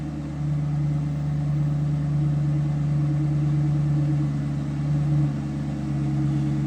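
A 2005 Cadillac XLR engine idling steadily up close, an even low hum and drone holding at a constant level with no talk.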